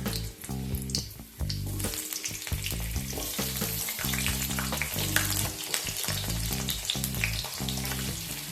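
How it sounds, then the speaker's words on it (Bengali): Potatoes and carrots fry in oil with whole spices, a dense, steady sizzle heard under prominent background music throughout. "আলু আর গাজরটাকে হালকা করে একটু ভেজে নেব"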